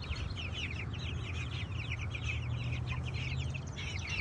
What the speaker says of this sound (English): Check out the new chicks.